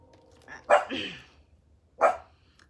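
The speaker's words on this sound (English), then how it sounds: "the neighbor's dog is outside, so she has to bark at him" A pet dog outdoors barking at the neighbor's dog: two sharp, loud barks about a second apart, close by, with quiet between them.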